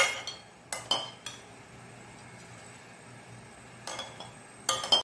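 Putu mix being scooped into a wide plate, heard as a few sharp metallic clinks and taps of utensil on plate separated by long quiet stretches.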